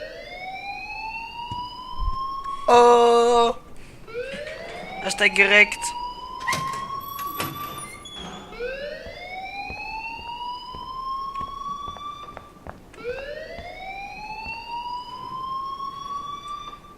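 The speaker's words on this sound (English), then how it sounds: "please turn off that alarm since that's your job" Alarm in the video game Life Is Strange, a rising repeated siren-like sweep that cycles every few seconds, loud throughout, with brief bursts of other game sounds and a voice speaking over it.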